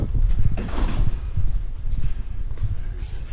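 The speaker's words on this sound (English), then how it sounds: "I always have a hard time getting this door open," A heavy entrance door of an apartment building in Warsaw is pushed open, giving close, loud clunks, rattles and knocks as the door and handle are worked, with short bursts of scraping.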